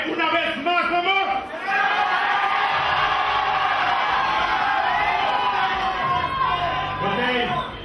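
A live rock band event audience cheers and whoops loudly in support of the bands, a dense, continuous crowd roar with shouting voices and whistles close by, sustained for several seconds.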